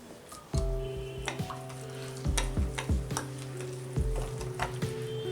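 Water is mixed into semolina to make batter, with a spoon scraping and knocking repeatedly against the bowl in an irregular rhythm, close and fairly loud, with no voices.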